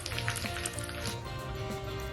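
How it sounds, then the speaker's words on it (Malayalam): Curry leaves and chillies crackle and sizzle in hot coconut oil for a Kerala tempering after the mustard seeds have popped; a steady, dense frying hiss with scattered pops throughout, close by. "കടുക് പൊട്ടിയതിന് ശേഷം കറിവേപ്പിലയും മുളകും ചേർത്ത് കൊടുക്കണം"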